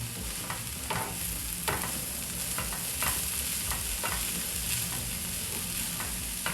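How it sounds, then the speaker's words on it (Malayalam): Stir-fried Kerala-style beans thoran with pepper is stirred in a pan, giving a loud, dense sizzle with regular scraping strokes of a spatula close by. "ഒന്ന് ഇളക്കി എല്ലാം കൂടെ യോജിപ്പിച്ചിട്ട്"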